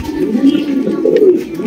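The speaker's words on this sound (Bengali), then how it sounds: "এখানে কিন্তু দুই জোড়া গোল্লা কবুতর আছে" Jet-black Bombay pigeons coo in low, rolling throaty calls, loud and very close, overlapping one another without a break.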